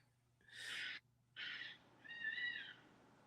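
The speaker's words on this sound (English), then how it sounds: "We have barn cats" Barn cats meowing loudly, three drawn-out, strained cries in a row with short gaps between them, close and alone over a low steady hum.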